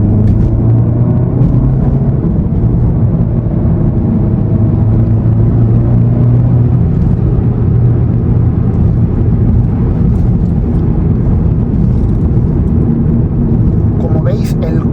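A 300+ hp VW Golf GTI Mk7 Performance accelerating hard on a highway, heard from inside the cabin as a loud, sustained low engine drone with heavy road and wind rumble throughout.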